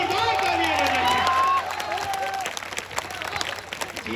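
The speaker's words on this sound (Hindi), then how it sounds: "आप लोग जोरदार तालियां बजाइए" Audience applause at a Hindi poetry recital, a loud dense burst of clapping that fades after a moment while a voice carries over it.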